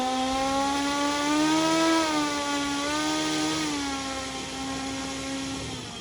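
A small model airplane engine runs steadily at high pitch during a taxi test, its buzzing tone rising briefly then easing slightly, loud and close.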